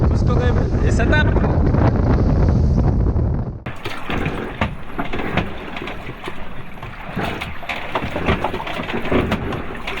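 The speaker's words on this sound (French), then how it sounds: "Et le vent, toujours présent, dans le nez." Strong wind roars across the microphone aboard a sailboat on a transatlantic crossing, loud and steady, then drops to gusty rushing with water and hull noise.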